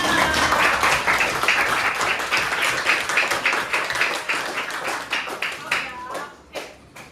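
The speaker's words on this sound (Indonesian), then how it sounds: "Kita tepuk tangan untuk kita semua." A classroom of primary school pupils applauds together, a dense burst of many hands clapping that thins out toward the end, with voices audible in the mix.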